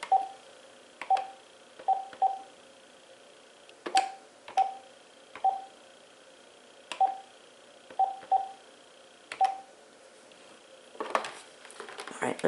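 Phone keypad tones beep in quick irregular clusters, a dozen short dialing presses spread over several seconds, close and clear, with faint rustling near the end.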